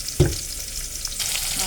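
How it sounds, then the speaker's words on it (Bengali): Hilsa fish frying in mustard oil with turmeric, salt and chilli powder gives a steady close sizzle, with a brief clatter of stirring near the start and no speech. "মাছগুলো এখানে ভাজা হয়ে গেছে।"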